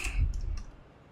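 Mouse clicks in a computer interface: a few sharp, close clicks in quick succession, the first slightly louder, followed by quiet room tone.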